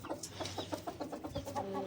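Chickens cluck softly in a rooftop coop at a small home poultry setup, with a quick run of short, rhythmic calls that sound faint and slightly distant.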